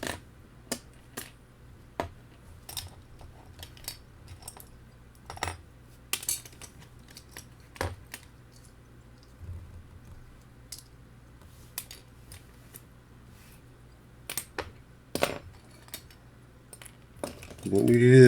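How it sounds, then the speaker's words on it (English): Hot Wheels toy cars, already drilled apart, are pried open with scattered sharp metallic clicks, clinks and rattles of small parts. The sounds come close and irregular over a low steady hum and grow busier toward the end. "Let's go ahead and rip them apart."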